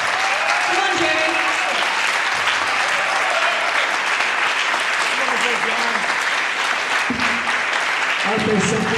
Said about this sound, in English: how about a warm hand of applause for Jerry Marshall